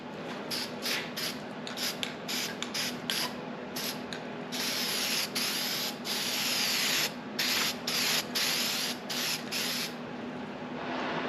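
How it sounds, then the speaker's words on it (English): Spray can painting a metal hanger part on a Sun Seeker Fat Tad, with repeated short hissing bursts followed by a longer sustained spray in the middle, close and steady over a low background hum. "I'll go ahead and shoot some paint on this thing"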